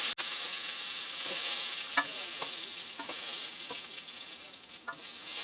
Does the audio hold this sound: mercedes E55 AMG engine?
no